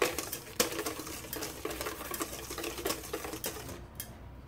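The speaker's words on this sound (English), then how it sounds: "so I just use a whisk. It's fine until they're all well combined" A whisk beats an egg-white mixture in a bowl, producing quick, steady rhythmic clicking and tapping against the bowl's sides for several seconds before stopping.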